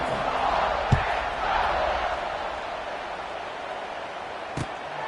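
Stadium crowd in the College Football 26 video game cheering before a kickoff, a steady broad roar that stays loud throughout, with two brief sharp thumps standing out above it.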